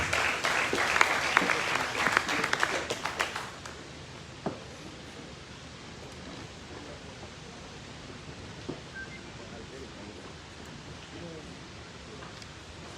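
A burst of audience clapping at a civic festival launch event for a few seconds, then fading into quiet room noise with faint rustling.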